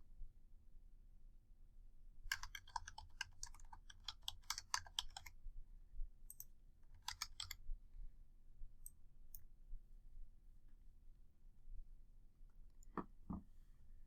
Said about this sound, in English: here's where you're going to need to enter your library card number and your PIN.